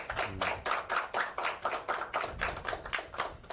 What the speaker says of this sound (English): So, boys, would you give your coaches a big round of applause?